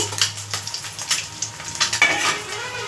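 Home-grown eggplant pieces frying in a pan while being stirred, with a close, steady sizzle and several sharp utensil scrapes against the pan and no voices.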